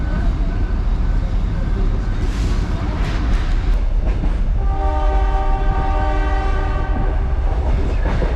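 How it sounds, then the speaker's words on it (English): A train pulls away from Cairns Central station with steady rumbling and rail clatter, then a long sustained horn sounds over the noise; a voice speaks briefly early on. "Here we are leaving Cairns Central Railway."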